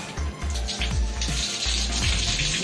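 Tap water runs steadily over a Coway Storm air purifier part being washed in a sink, a close, continuous splashing stream with small shifts as the part is moved under the flow.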